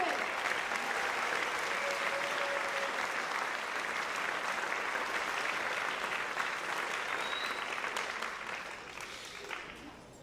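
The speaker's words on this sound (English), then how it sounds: "Please give a round of applause for these fine young men and women." Audience applause for JROTC cadets at a high school awards ceremony, a steady wash of many hands clapping for about ten seconds before tapering slightly at the end, with a faint voice briefly audible underneath.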